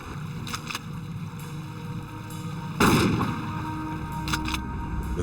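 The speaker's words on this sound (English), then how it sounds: "sink the cooler by firing slugs into it" Slugs fired into a floating cooler on open water: one sharp, loud blast stands out partway through, with fainter cracks around it over a steady rushing outdoor background.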